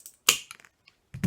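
A sharp snap as a ceramic sherd is cut into a small mosaic piece, followed by a few light clicks and a second crunch near the end, close and quiet.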